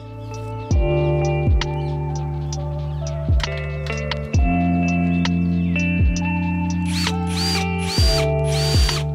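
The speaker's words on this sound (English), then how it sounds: "we're gonna drill a hole for the rod to sit in" A power drill drilling a hole in wood whirs at a steady pitch, its motor revving up and down in several bursts, with brief higher whines near the end.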